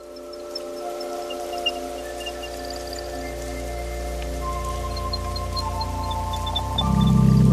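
Rain patters steadily around a heavy stone garden bench at an English cottage, a constant soft hiss with sustained tonal music layered over it, growing slightly louder toward the end.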